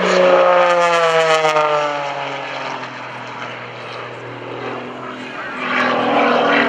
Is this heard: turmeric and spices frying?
no